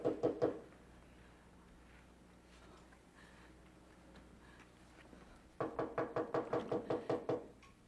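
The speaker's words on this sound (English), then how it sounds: "That knock on the door." A radio drama sound effect of knocking on a door: a quick cluster of raps, a pause, then a longer series of steady, evenly spaced knocks, close and clear.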